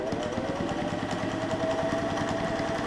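A 1950s sewing machine stitching folded canvas for a sailboat sail, running in a fast, even mechanical rattle with a steady hum underneath.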